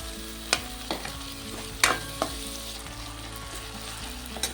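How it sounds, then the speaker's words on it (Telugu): Small chopped tomato pieces frying in a pan with ginger-garlic paste, a steady close sizzle with occasional sharp clinks of a spoon stirring, no voices. "టమాటా కూడా ఫ్రై అయిపోయింది కదండి"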